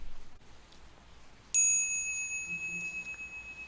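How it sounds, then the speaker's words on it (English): A bell is struck once in a quiet hall during the preamble of a Buddhist lecture, giving a sharp bright strike followed by a long, steady ringing tone that sustains alone with faint low hum beneath. "One more item in our preamble is the bell song."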